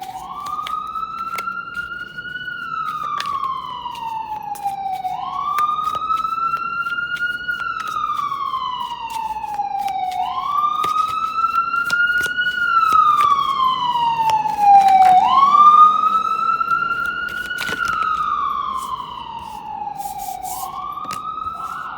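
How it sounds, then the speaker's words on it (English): A wailing siren rises and falls in slow, repeating sweeps, loud and steady, with no one talking. "sorry about the siren."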